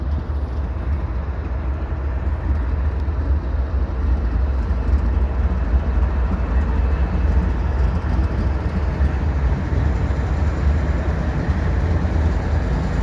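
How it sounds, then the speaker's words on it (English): A CN westbound freight train led by an ex-Citirail ES44AC locomotive rolls past the Dorval ramps at dusk, giving a steady, loud, close rumble of engine and wheels on rail that holds throughout without talk. "with an Ex Citirail locomotive leading the last light of day in the blue hour here at the Dorval ramps."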